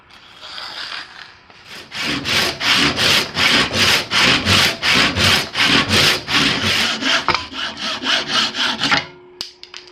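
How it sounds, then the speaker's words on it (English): Half round file drawn along the edge of an axe head's kerf to chamfer it during an axe makeover, a steady run of about twenty loud, close rasping strokes in even rhythm, no talk. "I just use the edge of a half round file to do that"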